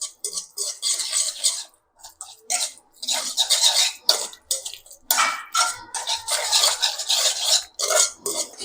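Chicken being mixed by hand with ginger garlic paste in a bowl, producing wet squelching and sticky slaps in quick irregular bursts, close up, with no talking.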